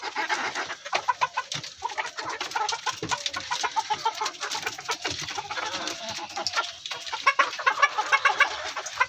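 Chickens on a poultry farm cluck steadily and busily, many birds overlapping in a dense, close chorus with rhythmic clucks throughout and no talking.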